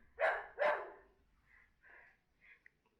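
A dog gives two sharp, loud barks in quick succession, followed by a few softer, trailing woofs and breaths.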